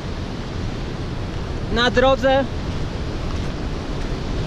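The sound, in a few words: mountain stream flowing across the road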